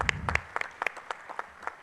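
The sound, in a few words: audience applause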